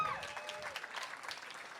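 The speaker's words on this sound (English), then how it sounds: "Give a round of applause for them." Comedy show audience claps for the wait staff, a short dense patter of applause with a faint voice or tone briefly sliding over the start.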